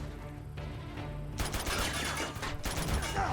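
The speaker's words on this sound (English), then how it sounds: "I'm quickly thrown into another gunfight." Uncharted 2 gunfight on the hardest difficulty: after a calmer opening, a loud burst of rapid gunfire breaks out and keeps going in dense, overlapping volleys to the end.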